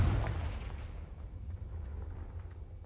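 A Confringo fire spell blasting in the Hogwarts Legacy video game: one loud booming explosion at the start that fades into a lingering low rumble.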